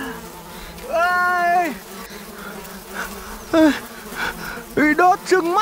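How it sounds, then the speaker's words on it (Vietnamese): Bees buzz around a nest in a forest at a campsite, a close insect drone with louder rising and falling swells as they fly past, while people exclaim and talk over it. "Tổ ong ghê."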